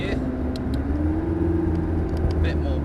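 A McLaren MP4-12C brakes hard and shifts down on a test track at Dunsfold, its engine a steady low rumble with a pitch sweep under continuous speech, plus a few brief sharp clicks.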